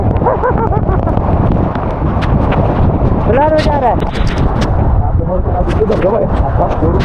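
Loud, steady wind roars and buffets right against the microphone during a motorcycle ride on Lingya Ghat, with rain noise mixed into the constant rush amid fog.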